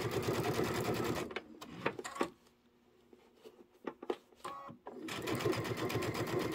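A sewing machine runs in a fast, close rattle while piecing quilt blocks, stops for a few seconds of quiet handling and small clicks as the seam is locked, then runs steadily again.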